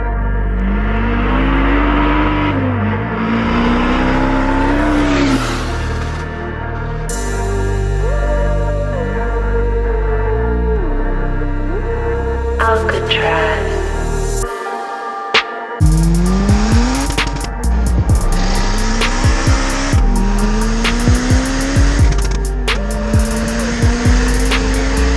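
A turbocharged Honda Civic EP3 hot hatch with a screamer pipe, making about 370 bhp, accelerates hard through the gears with loud rising engine howls, brief pauses between shifts and sharp blow-off chatter, recorded from inside the car.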